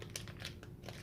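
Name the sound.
opening a vintage Pokemon booster pack wrapper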